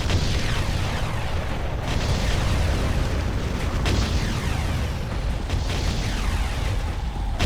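Dense battle noise in the Ground Control strategy game, with a thick rumble of explosions and booms as enemy structures are destroyed, loud and continuous with repeated sharp blasts layered over the roar.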